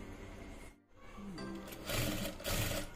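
A Jack F5 industrial sewing machine stitching and speeding up, its motor whirring with a close, steady mechanical hum after a brief pause, growing louder in two surges, no talking.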